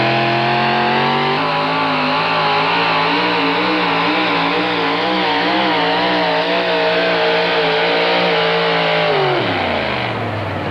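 A multi-time Grand National champion 1961 Chevrolet four-wheel-drive pulling truck roars loudly at a truck pull, its engine note climbing and wavering at high revs before dropping sharply near the end.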